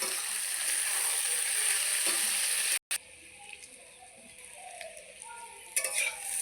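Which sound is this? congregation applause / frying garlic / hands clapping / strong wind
frying garlic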